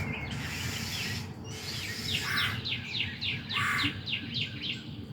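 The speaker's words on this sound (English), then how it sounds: "These birds are trying to scare me today." Several birds chirp in quick repeated bursts close to a porch, bright and clear over a steady low background hum, with a short pause between flurries.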